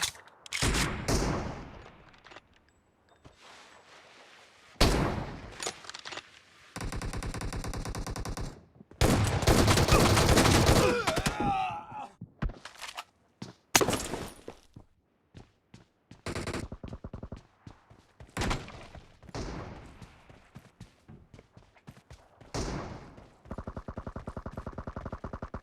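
S12K shotgun fire in PUBG Mobile, loud, close bursts of rapid shots separated by quiet gaps, with several longer strings of firing and a heavy blast cluster near the middle.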